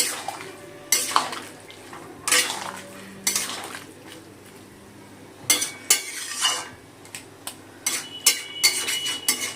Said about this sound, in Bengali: জিরে গুঁড়ো, ধনে গুঁড়ো, ঝাল লঙ্কার গুঁড়োটা দিয়ে একটু লাউটা একটু কষিয়ে নেব।